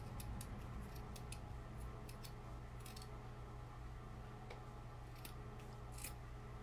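Scissors snipping through fabric while a donut-shaped kid's pillow is cut out: a steady run of short crisp clicks and cuts at close range over a constant low hum, with no talking.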